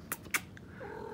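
A pet cat gives a couple of short sharp vocal bursts, then a softer drawn-out meow, close and fairly quiet indoors.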